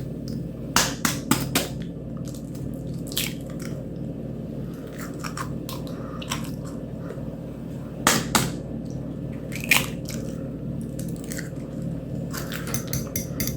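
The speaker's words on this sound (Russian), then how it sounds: "Разбиваем 2 яйца." Two eggs cracked into a bowl for honey almond cookies, heard as sharp, close taps and crunches of shell spaced across a quiet kitchen background, with several distinct clicks and snaps rising above a low steady hum.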